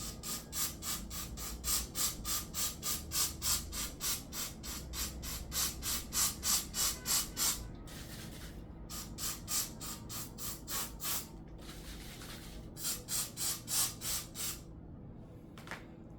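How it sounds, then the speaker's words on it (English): Aerosol snow spray hissing onto a wire garland in bursts, close and fairly loud, with repeated short pulses in several groups and brief pauses between them. "I'm going to go in with some snow spray and spray it"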